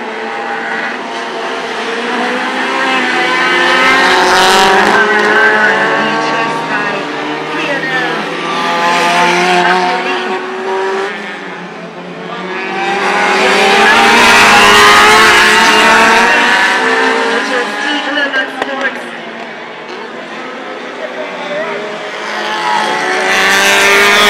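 Race cars on the Dover Raceway track roar past in waves, swelling loud and then fading as they go by. One car sounds rough, an announcer talks over the engines, and there is a brief tire squeal.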